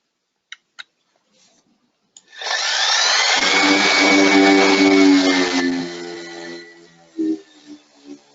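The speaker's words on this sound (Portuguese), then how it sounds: "eu vou utilizar uma lixa, aqui a 150, para fazer esse acabamento" Sandpaper of 150 grit worked over a surface to finish a repair, a steady loud scratchy rasp lasting about three and a half seconds after a few small knocks, then tapering off with faint handling noises.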